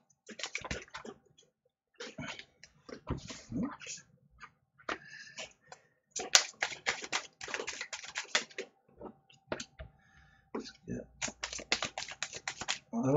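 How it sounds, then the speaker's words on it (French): Playing cards being shuffled close up in bursts of riffling, crisp flutters broken by pauses, with someone speaking in between. "pendant que je bats les cartes."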